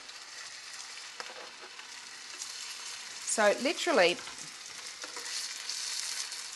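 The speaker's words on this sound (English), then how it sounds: "You only want to sear the outside. Gotta love that sizzle." Loud sizzling of tuna searing in a hot pan for tataki, crackling steadily, with a short burst of spoken words partway through.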